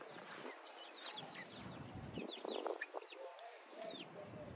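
Several backyard chickens cluck and chatter nearby in overlapping bursts, with faint background noise and no clear talk.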